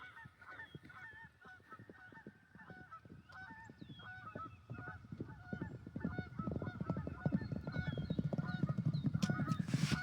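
Horses running in a paddock, with scattered hoofbeats building into a louder, denser rumble toward the end, mixed with repeated honking calls like geese across the whole stretch; no talking.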